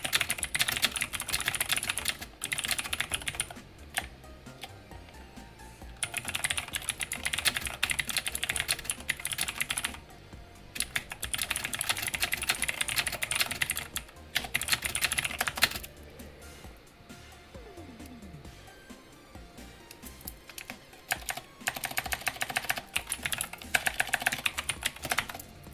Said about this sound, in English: let me type a pin message real quick